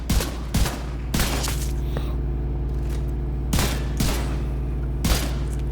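Gunfire from The Division 2 during a headshot damage test with a boomerang-style build: several sharp, loud shots spaced about a second apart over a steady low in-game hum, no talk.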